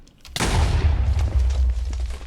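A sudden loud explosion in modded Minecraft bursts in after a brief quiet moment, then a deep rumbling boom sustains and rolls on for about two seconds.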